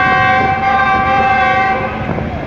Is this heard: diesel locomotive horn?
yes